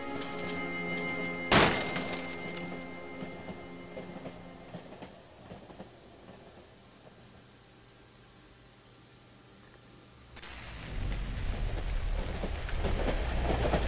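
Train ride in the horror game Cry of Fear: a sharp clatter near the start gives way to a steady rumbling carriage with faint rhythmic rattling, swelling into a louder, rougher roar toward the end, with no voices.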